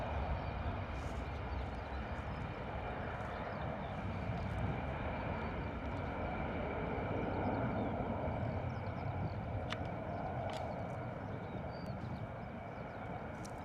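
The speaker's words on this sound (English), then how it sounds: "big old dip and lift there from the 320 on the rotation from runway 27" Airbus A320 taking off from runway 27 at Bristol Airport in gusty crosswind, a steady broad jet engine roar sustained throughout, fairly strong with wind noise mixed in.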